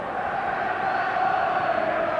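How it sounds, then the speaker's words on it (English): Football fans of St Mirren and Dundee United singing and cheering at Hampden during extra time of the 1987 Scottish Cup Final, a dense, loud, continuous roar from a huge stadium crowd. "So listen to the singing and cheering around the stadium from both sets of fans"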